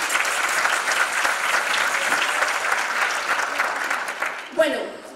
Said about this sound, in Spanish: Un aplauso para vosotros también,